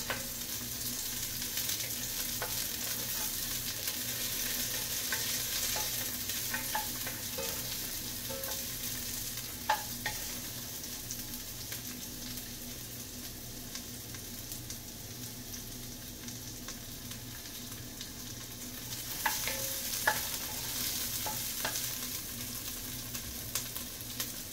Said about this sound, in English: That's like some saute and onions.